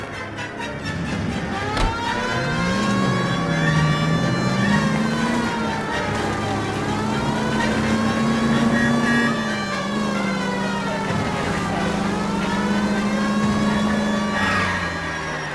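Car in L.A. Noire driving with a siren wailing over the engine, a loud, continuous rising and falling tone held up close for the whole stretch.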